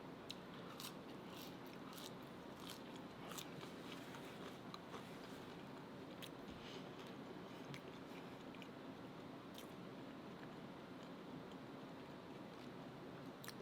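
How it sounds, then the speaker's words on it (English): Crunchy McDonald's-style french fries, eaten cold, being bitten and chewed close to the mic, with repeated sharp crisp crunches over steady low background noise and no talk. "These fries are cold and they're still crunchy."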